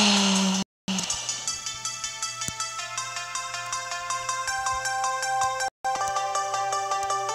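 Bright electronic music from the Geometry Dash video game plays on a mobile phone in clear, repeating synth-like notes with a steady beat, cut by two brief silent gaps.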